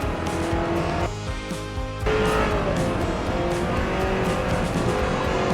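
A Ford GT Mark 1 race car in the Forza Motorsport video game drives with a loud, continuous engine roar; a brief dip in pitch suggests a gear shift before the engine climbs again, with no talk over it.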